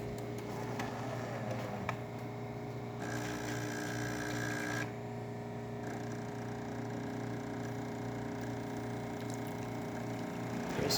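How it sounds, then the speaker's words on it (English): A Jura A9 coffee machine grinding two servings of espresso, steady mechanical whirring and buzzing hum with a brighter grinding burst partway through, fairly quiet and close. "I'm going to hit prepare. It's going to grind 2 servings of espresso."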